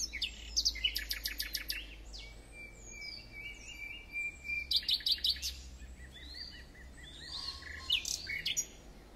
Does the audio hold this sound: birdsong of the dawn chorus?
yes